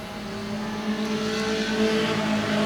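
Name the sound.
junior sedan race cars racing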